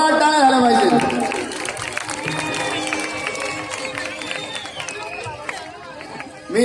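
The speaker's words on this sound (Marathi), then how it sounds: "जोरदार टाळ्या झाला पाहिजे" At an Ambedkar Jayanti Bhim song event, a crowd makes a continuous wash of noise, with applause and chatter mixed with amplified voices and tonal music, and a short loud burst at the very end.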